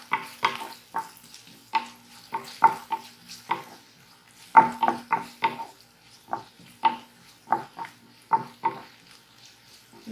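Green chillies are sautéed in a pan: intermittent scraping stir strokes and light clatter, close and sparse, with a faint sizzle underneath.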